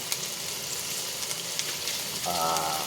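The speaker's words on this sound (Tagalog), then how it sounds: "Igisa muna natin yung bawang hanggang sa mga amoy." Garlic sizzles steadily in a hot pan for a chopsuey stir-fry, a constant bright frying hiss with faint stirring clicks, and a brief tonal hum rising near the end.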